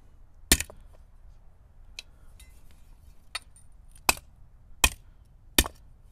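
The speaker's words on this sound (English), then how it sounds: "This hammer's probably a little overkill, but it's what I got available close by." A heavy hammer strikes metal braces on wooden pallets to flatten them. Six sharp, separate blows land at irregular intervals over a quiet background.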